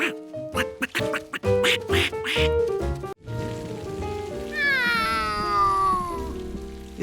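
In a Curious George cartoon scene, a duckling hatches with a quick run of close little pecks and chirpy quacks, then a long wavering, rising-and-falling squeak over a soft rain-like background hiss.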